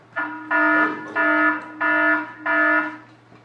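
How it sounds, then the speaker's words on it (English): A fire alarm plays through computer speakers as four evenly spaced, loud electronic tone bursts over a faint steady hum. "That was a fire alarm. I should turn off my speakers."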